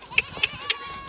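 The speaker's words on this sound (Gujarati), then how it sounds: "બકરા ખેતરમાં લઈ લીધા છે" Goats in a farm field give three short, evenly spaced bleats close by within about a second, with a soft murmur of the field behind them.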